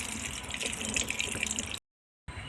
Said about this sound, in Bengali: গরম হয়ে গিয়েছে এখন আমি সর্ষার তেল দিয়ে দিলাম